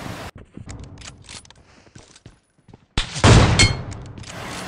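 An AWM sniper rifle fires in the mobile game BGMI, a single loud, sharp shot bursting in after scattered small clicks and mechanical taps, then ringing out as a sustained rumbling tail.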